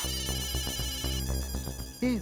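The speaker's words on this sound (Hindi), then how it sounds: "उसी का फोन आ रहा है।" A phone ringtone plays in a repeating electronic melody, fairly loud and close, with a brief rising chirp near the end.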